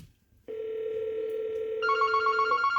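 A Yealink T54W desk phone rings for an incoming call, a steady electronic tone that turns into a higher warbling trill, close and clear.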